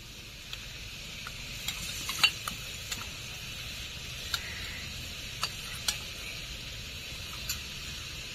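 Prawn malai curry with coconut milk, yogurt and cashews sautéing in a pan, a low soft sizzle punctuated by sparse, sharp spatula taps and scrapes against the pan at irregular intervals.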